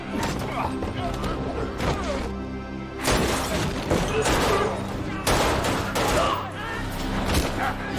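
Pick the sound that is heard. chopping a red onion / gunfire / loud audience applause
gunfire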